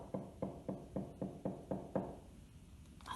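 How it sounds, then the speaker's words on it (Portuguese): Gentle knocking on a door: eight soft, evenly spaced knocks in a steady rhythm, close and quiet, followed by a brief pause. "alguém bater à porta muito ao de leve"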